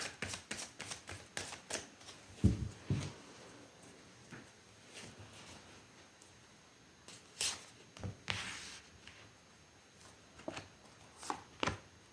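A tarot card deck being shuffled and handled close up during a card reading, giving irregular crisp riffles and soft slaps, with a few louder bursts and scattered light taps, and no voices.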